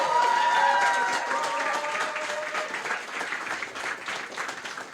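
Audience applause for a group of presenters at an evening event in Montreal, dense steady clapping from a crowd that starts strong and tapers slightly, with some voices mixed in.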